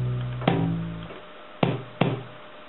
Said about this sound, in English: Okay, now I put the kick drum with that.